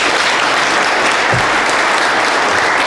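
Loud, sustained applause from an audience at the California Delta Champion Awards ceremony, a dense steady wash of clapping throughout.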